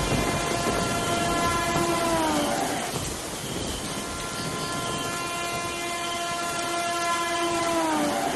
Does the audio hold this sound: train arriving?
yes